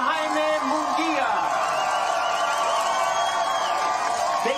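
A big boxing crowd cheers and whoops for challenger Jaime Munguia, a dense, steady roar of many voices that holds loud throughout with scattered shouts rising above it.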